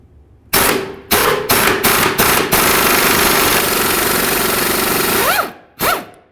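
An impact wrench removing a 17mm upper rear shock bolt from inside the wheel well of a 2011-2016 Hyundai Elantra: several sharp rattling bursts, then a long sustained hammering run and one last short burst, close and loud.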